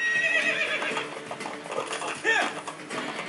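A horse in Assassin's Creed II whinnies and kicks amid clip-clopping hooves, with a brief louder neigh midway; game sound effects with some background noise.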